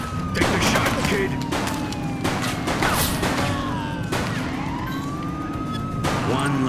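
Gunfire at a suspect vehicle in the police game The Precinct, sharp repeated shots cutting through a wailing police siren and traffic noise, with a voice speaking over the action.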